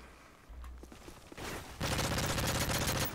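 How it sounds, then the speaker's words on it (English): Rapid automatic gunfire in Call of Duty: Modern Warfare 3, with a few scattered shots and thuds first, then a loud sustained burst of fast, evenly spaced shots through the rest. "I terribly missed all of those shots"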